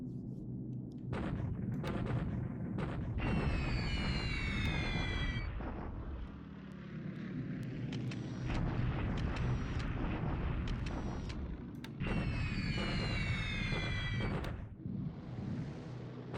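Anti-aircraft flak firing in the World War II strategy game War in the Pacific, a long rumbling barrage of booming bursts with sharp crackling layers that come and go, loud and continuous throughout.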